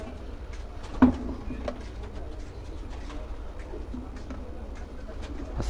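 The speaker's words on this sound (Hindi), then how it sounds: "ब्रीडर कबूतर तुम शो करा रहे हैं जी।" Pigeons cooing on a rooftop loft where breeder pigeons are kept in Punjab, soft low coos repeating over a steady background, with one brief louder knock near the start.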